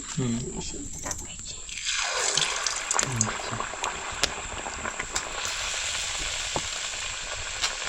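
Cucumber gharye, a traditional Konkani village snack, fry on a pan in a village kitchen with a steady, close, crackling sizzle. Someone talks at times over the frying.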